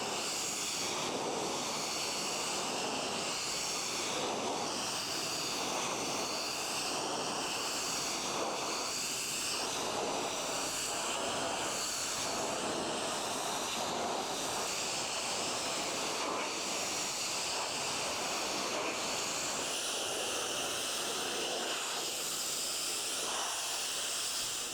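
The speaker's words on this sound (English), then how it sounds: "What I'm going to do now is pressure wash it all again" A pressure washer blasts wet wood decking during a restoration clean, a steady loud broadband hiss of spray that runs continuously without pause and with no talk.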